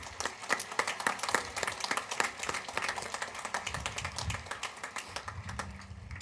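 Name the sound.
applause for graduating students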